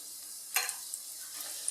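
Chicken, potato and cheese cutlets fry in hot oil, a steady soft sizzle with a sharper crackling burst as one is slipped in, then a faint bubbling hiss continuing alone.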